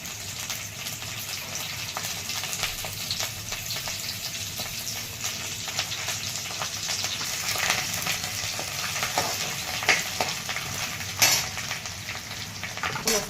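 Curry leaves and coriander sizzle and crackle in hot tempering oil with crushed garlic for a village-style stuffed ridge gourd dish, a loud steady frying hiss with scattered pops and stirring, no voices.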